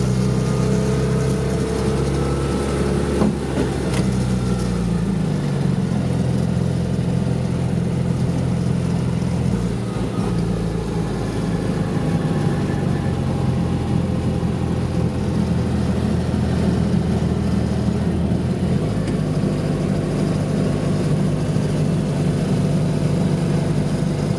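A 1958 Citroën 2CV's small engine droning steadily from inside the cabin in second gear while pulling through a curve, a continuous loud buzzing note that rises and falls slightly as it picks up revs, with no talking.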